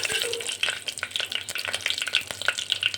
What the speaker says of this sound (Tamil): மசாலாவை சேர்த்துடலாம் மசாலா பொரியட்டும்